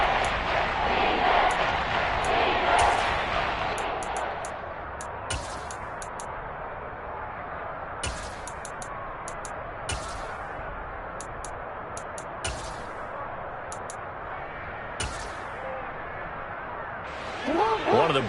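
A stadium crowd roars and cheers in a PS5 football game featuring the Ravens. A broad, steady wash of crowd noise runs throughout, under almost continuous commentary, and swells again at the end.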